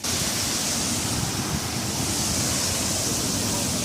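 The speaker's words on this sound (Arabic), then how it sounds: "الهواء جاي من الطرف هذا، اوكي، فلما بيضرب فيك بيجي عليك رذاذ المي تبع النافوره هذه" Water from a fountain sprays and splashes while wind gusts across it, a steady, dense rushing hiss that holds at an even level throughout, with no voices.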